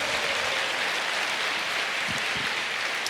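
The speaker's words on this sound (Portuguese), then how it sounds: "Pode aplaudir, pode expressar, é para o Senhor." A church congregation applauds during a sermon, a dense, steady wash of clapping that continues evenly throughout without pause.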